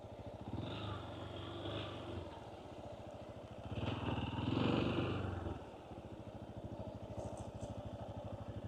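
A motorcycle engine idles and revs on a forest trail, a steady low putter with a louder surge in the middle, fairly quiet and close, with no talk over it.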